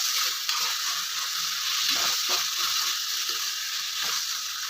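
Chillies frying in hot oil for sambar, a steady close hiss of sizzling with faint crackle and no voices, even in level throughout.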